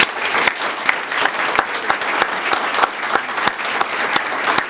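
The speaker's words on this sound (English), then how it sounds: "let's give Beaver one more round of applause" Audience applause at a Partners in Education business gathering, a steady, dense wash of clapping with sharp individual claps standing out, continuous and fairly loud throughout.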